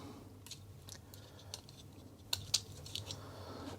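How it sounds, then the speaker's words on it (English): Keys of a Commodore 128D computer keyboard are pressed and fitted during reassembly, producing faint, irregular plastic clicks and snaps with a couple of sharper, louder clicks partway through, close up and without talk. "it's time to assemble the keyboard."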